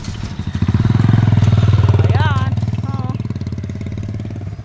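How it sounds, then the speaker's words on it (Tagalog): A motorcycle engine passing along a riverside path, a loud rhythmic mid-pitched chug swelling as it approaches and fading slowly, with a person's voice briefly heard over it. "Oh, may dadaan na motor. Yan, dadaan ang motor guys."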